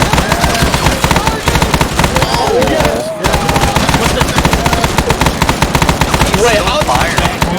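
Rapid automatic gunfire from the military shooter Arma 3 in a Vietnam-era battle, dense bursts rattling almost continuously with one brief pause, loud and close.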